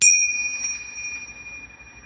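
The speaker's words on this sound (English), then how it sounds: "going to go ahead and do these chimes." Chimes rung before a tarot reading: one bright metallic strike that rings out and slowly decays over two seconds, alone and clear.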